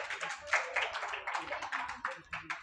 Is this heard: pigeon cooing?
no